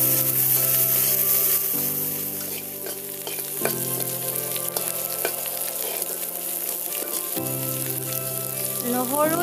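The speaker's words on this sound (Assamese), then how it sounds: "নহৰু জিৰা আৰু জলকীয়াখিনিৰ লগত আমি এতিয়া আলুখিনি ভাজিছোঁ।" Potatoes fry in hot oil with garlic, cumin and chillies for a fish dish with bhedai lota, giving a loud, steady sizzle broken by occasional stirring scrapes against the pan.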